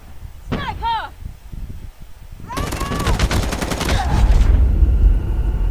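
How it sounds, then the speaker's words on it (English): Rapid automatic gunfire in the Call of Duty Mobile video game, with an M4 rifle, starts after a short pause and runs as loud sustained bursts with a heavy boom near the end, while a player's voice talks over the opening. "I was getting shot in the back."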